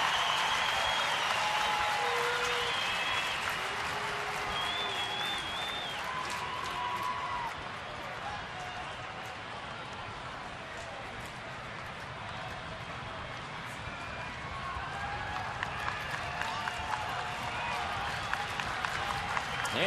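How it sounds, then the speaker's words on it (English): Baseball stadium crowd at a Chicago White Sox at Detroit Tigers game, a steady broad roar of cheering and noise that swells toward the end, with a few sharper claps or shouts poking through. "Crowd making some noise now."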